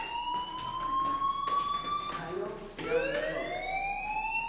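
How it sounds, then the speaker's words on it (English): A fire alarm in the video game Life is Strange rings with steady high electronic tones, continuing across the whole stretch, then shifting pitch partway through, with faint speech-like sounds mixed in underneath. "Hey, do you hear that fire alarm?"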